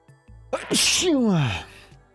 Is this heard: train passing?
no